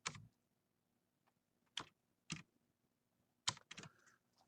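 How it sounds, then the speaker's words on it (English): A few short bursts of key presses on a computer keyboard, quiet and close, separated by silent gaps as a customer number is typed in. "what I'm going to do is type in my customer number."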